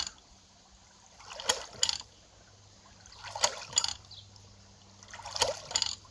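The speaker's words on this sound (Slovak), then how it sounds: "tento vodný trkač." A hydraulic ram pump (water ram) runs nonstop without electricity to water gardens, sending out three rhythmic bursts of splashing, gushing water at steady intervals of about two seconds, moderately near over a low steady hum.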